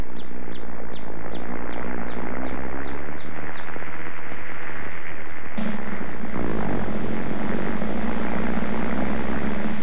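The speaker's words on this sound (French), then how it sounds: "Et l'avion de CB s'élança, survolant la rivière jusqu'au premier tournant." A loud propeller engine drones steadily as a plane takes off over a river, its roar shifting partway through as the aircraft powers up, with faint rhythmic chirps early on.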